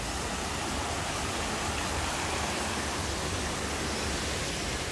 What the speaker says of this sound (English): The fountains have just come back on.